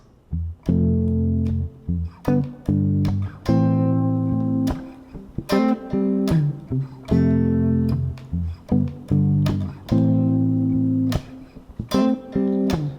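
A guitar plays the looping rhythm part of a cover, chords struck in a steady syncopated pattern with short gaps between phrases, close and clean with no talking.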